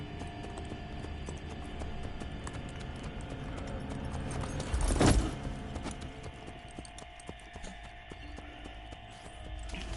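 Horse hooves clip-clopping in Assassin's Creed Brotherhood, a steady walking rhythm with a brief louder thump near the middle, then continuing more faintly as the horse moves off.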